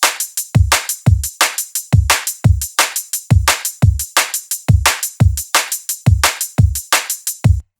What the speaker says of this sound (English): So bar 48 is kind of the main drum groove.